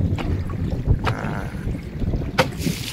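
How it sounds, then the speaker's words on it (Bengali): Strong wind over the Gumor river in the Sundarbans buffets the microphone with a steady low roar, with water sloshing and a couple of brief gusts. "দেখো আজকে প্রচুর হাওয়া দিচ্ছে"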